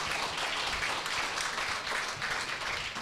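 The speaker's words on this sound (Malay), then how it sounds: "Tepuk tangan untuk sekali lagi." An audience applauds at the opening ceremony of a book festival in Sabah, a thick, even roar of many people clapping that holds steady for several seconds without speech.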